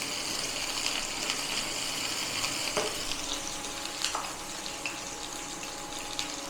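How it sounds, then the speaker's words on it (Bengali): Finely chopped green chillies fry in a pan, a steady close sizzle with a few faint clinks and stirs over about six seconds, no voices. "ভেজে নেবো।"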